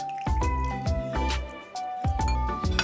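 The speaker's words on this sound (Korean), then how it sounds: "다시 손가락에 딱 걸쳐서 올려서 체에다가 받쳐서 물기를 제거해 줍니다" Rinsed fresh oysters sit in a kitchen sieve, draining water in quick wet drips and squishy splats that come in short close bursts.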